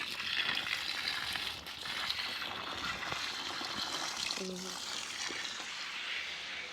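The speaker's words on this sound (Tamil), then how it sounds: "பீட்ரூட்டுக்கு தண்ணி இறைக்கிறோம்." Water gushes and splashes steadily onto beetroot plants in a home garden on a sunny morning, a continuous hissing pour with people talking over it.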